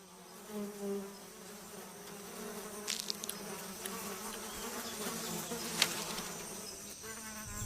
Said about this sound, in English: Biting insects are a constant torment.